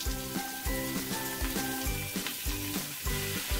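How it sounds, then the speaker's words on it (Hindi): Grated cabbage fries in a pan with ginger and green chili, giving a steady close sizzle. Rhythmic repeated clatter from stirring or tapping runs under it. "इसके बाद ही हम ऐड कर देंगे इसमें कद्दूकस की हुई गोभी।"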